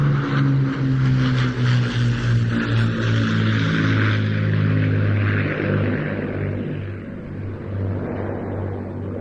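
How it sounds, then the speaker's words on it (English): An Avro Lancaster of the Battle of Britain Memorial Flight passes at an airshow, its propeller engines giving a loud, steady droning roar with a rich harmonic hum that eases slightly as it moves away. "Battle of Britain Memorial Flight, Lancaster."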